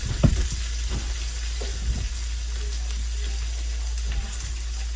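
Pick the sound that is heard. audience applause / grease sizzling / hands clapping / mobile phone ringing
grease sizzling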